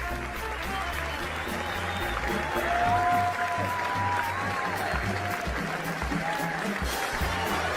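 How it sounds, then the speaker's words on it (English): Pre-recorded crowd applause plays steadily and loudly throughout, with faint musical tones drifting underneath. "thank you for that hearty pre-recorded applause"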